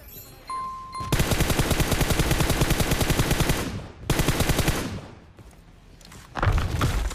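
Rapid automatic gunfire in the mobile battle royale game PUBG Mobile, loud sustained bursts of regular shots broken by brief pauses, with a final short burst at the end.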